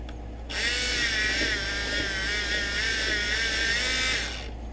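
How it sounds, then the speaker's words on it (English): A pencil sharpener grinds a green pencil with a steady, high-pitched whir that starts abruptly, holds for about four seconds close up with no other sound, then stops. "I'm going to sharpen this green"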